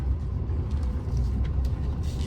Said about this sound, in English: Oh, and another lorry coming up.